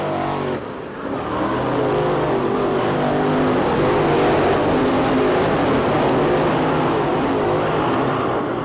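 Race cars roar down the back straightaway on the final lap of a heat race at East Bay Raceway Park, a dense, loud engine drone that swells and holds steady, with no voices.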